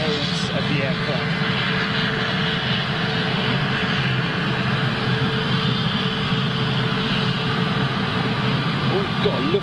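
An Airbus A340-600 jet takes off at sunset with a loud, continuous engine roar that stays steady and close throughout, while someone talks over it.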